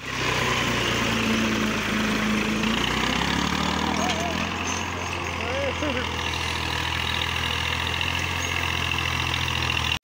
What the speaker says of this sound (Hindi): ये माशाल्लाह ट्रैक्टर।